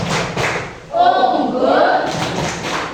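Rhythmic group clapping mixed with unison chanting voices at an SMP 5 junior high school assembly. Steady bursts of claps surge and pause around the crowd's chanted words.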